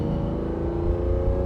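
A 1967 Ferrari 330 GTC engine pulls steadily under acceleration, a smooth, mellow drone with strong low harmonics held at an even level, close and continuous with no voices over it.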